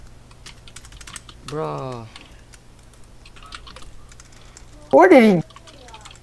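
Computer keyboard typing during a Roblox volleyball game, with rapid light clicks scattered throughout, close and fairly faint, between two short spoken exclamations.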